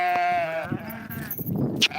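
Sheep bleat loudly and close by in a shepherd's flock, one long wavering cry followed by rougher, overlapping bleats.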